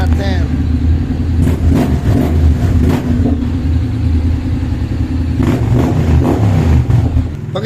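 Honda X-ADV 750 scooter engine idling close by, then revved in several short bursts that rise and fall over the steady motor hum, with someone speaking over it.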